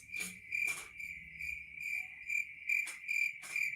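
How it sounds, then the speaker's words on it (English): Cricket chirps used as a sound effect repeat in rhythmic pulses, about ten shrill trills in under four seconds, clear and fairly quiet against a soft background. "we got to do another crickets"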